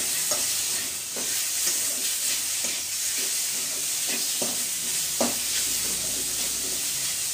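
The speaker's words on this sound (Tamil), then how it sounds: "சிக்கனை நம்ம நல்லா வறுத்துக்குவோம்" Chicken pieces frying in coconut oil for pepper chicken, a steady loud sizzle with intermittent stirring clinks and scrapes of the utensil against the pan, no talk.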